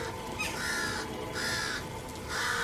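Crows caw repeatedly, harsh calls coming in a few evenly spaced bursts, fairly clear against a low steady background hum.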